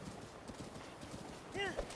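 Horse hooves clip-clopping in Breath of the Wild, a quick steady trot of hoofbeats with a short neigh near the end, under a voice talking.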